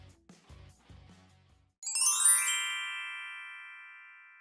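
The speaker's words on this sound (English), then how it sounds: "I received a text message that I never ever thought I would get" A phone text-message notification chime rings out alone after a few soft low thumps, a bright bell-like tone that decays slowly over a couple of seconds.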